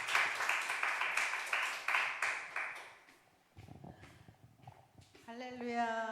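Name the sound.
applause welcoming a speaker in church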